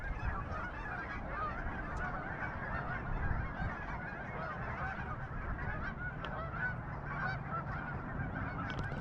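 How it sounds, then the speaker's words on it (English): Hundreds of Canada geese honk loudly at Island Park, Portage La Prairie, a dense continuous chorus of overlapping calls from a large flock spread nearby and farther off, with no talking. "it is super loud here from the geese"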